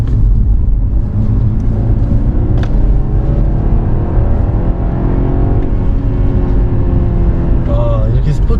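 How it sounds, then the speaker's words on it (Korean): A BMW 520i with a four-cylinder engine and ZF eight-speed transmission revs in sport mode from inside the cabin, a loud droning rumble rising in pitch, with someone talking over it. "당기면 너무나도 4기통 같은 소리가 납니다."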